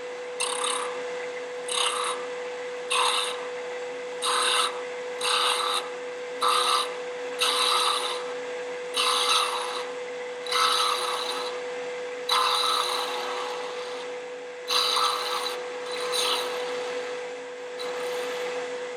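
A skew chisel cuts wood on a spinning lathe while turning a bottle stopper, producing a steady motor hum under repeated raspy scraping passes, each lasting about a second with short gaps between, loud and close.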